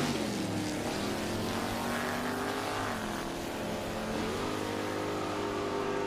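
Drag racing cars roar down the strip at an NHRA event in Sonoma, a sustained distant engine drone with rising and falling pitch as they run toward the top end.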